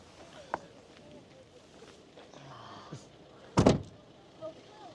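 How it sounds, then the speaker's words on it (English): A GWM off-road vehicle's door slams shut once with a solid, bold thud, close and loud against a quiet background, preceded by a few faint clicks and handling noises. "the sound of when you close the door is so bold, you can really feel the quality of the car."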